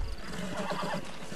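A horse in the Red Dead Redemption video game lets out one short, close whinny with a faint hoof clop behind it.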